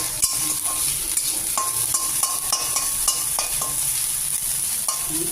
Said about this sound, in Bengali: তেলটা একটু দিয়ে দেবো ছোটো মাছগুলি দিয়ে ভেজে নেব